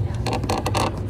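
A squeaky bench creaks in several short, strained bursts, close and fairly loud, with nothing else heard.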